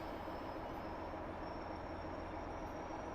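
A steady rumbling train noise from a train simulator game, as a long passenger train slows for its stop at Leeds station on the Huddersfield line. It is a constant broadband roar with a faint high whine, and no one speaks.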